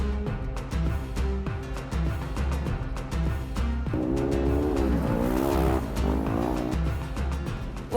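Dragonfire Racing off-road race machines roar past in a loud, continuous engine blast, revs climbing and warbling with tire noise, with rhythmic low thumping throughout.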